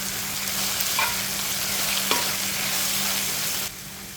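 Okra stir-fry with garam masala stirred in a pan sizzles steadily up close, with a couple of spatula scrapes and a sudden drop in the sizzle near the end; no speech.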